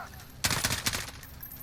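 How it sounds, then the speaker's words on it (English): Enemy gunfire in a Modern Warfare campaign video game: a dense burst of rapid automatic shots starts abruptly partway in and rattles for about a second, then fades into a softer tail of battle noise. "there is enemies returning fire at us"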